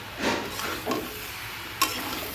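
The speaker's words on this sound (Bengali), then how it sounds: "এঁচড়টা ভালো করে গ্যাসটা একদম আস্তে করে দিয়ে কষাতে হচ্ছে" Young jackfruit being stir-fried on low gas in a pan, a soft background sizzle broken by a few scraping strokes of a spatula, one sharper clink near the end.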